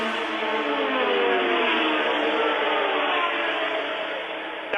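1984 Formula One race cars at the Italian Grand Prix, including a Renault, a Brabham-BMW and a McLaren, roar continuously at high revs, a loud sustained engine howl throughout with no pause.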